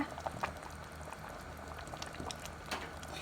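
Thai pork rib soup with pickled mustard greens simmering in a pot on a gas stove, a steady low bubbling with scattered pops and gurgles, close by and without talk.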